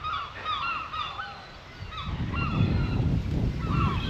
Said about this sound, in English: it would be peaceful if it wasn't for the seagulls.